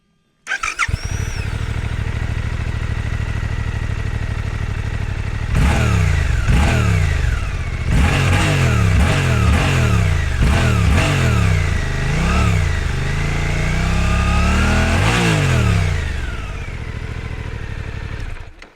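A Suzuki GSX8S motorcycle with a quiet Euro 5 exhaust starts up and idles, then is revved in a series of sharp, repeated throttle blips that rise and fall, with a longer rev near the end, close and loud with no talking.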